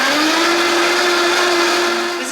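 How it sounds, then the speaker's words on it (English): A high-powered blender runs at full speed, blending celery with water into a green juice. The motor whine is loud and steady at close range and eases slightly near the end. "This is a high-powered blender, guys, so it got rid of everything"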